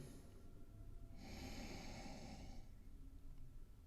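A slow, audible inhale through the nose during a yoga class, a soft airy rush lasting over a second, close by in a quiet room.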